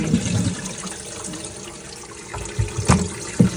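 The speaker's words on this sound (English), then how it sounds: "That flushes the toilet." A toilet flushes while someone checks a cistern that keeps overflowing, giving a rushing wash of water with gurgles and a few sharp splashing bursts toward the end, fairly close and with no talking.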